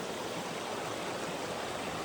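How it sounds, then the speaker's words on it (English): A jungle river at Bukit Lawang flows with a steady, even rush of water, close and unbroken throughout. "at this nice river"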